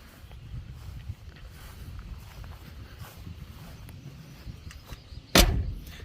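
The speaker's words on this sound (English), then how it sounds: "That door opens and closes real nice." A single sharp thud near the end as the door of a 1958 Chevrolet Brookwood shuts, over a steady low outdoor rumble.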